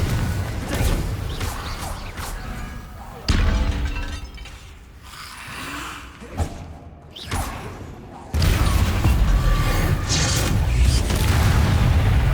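In Hogwarts Legacy, an Incendio fire spell goes off with a heavy boom, followed by crackling, shattering clatter and a roaring rush. The blasts stand out sharply against busy game noise, with no talking.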